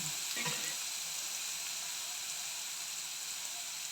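Ground masala paste fries in oil for a jackfruit curry, giving a steady, even sizzle at close range with a brief scrape of stirring near the start and no voices.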